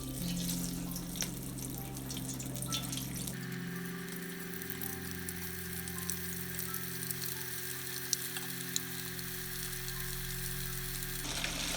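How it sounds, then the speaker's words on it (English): Falafels sizzle and crackle steadily in hot oil at 350 degrees, lowered in with a wire spider; the frying noise is continuous and close, with no talking. "each of these falafels using one of these fancy things called a spider, which will allow you to dip it into the hot oil"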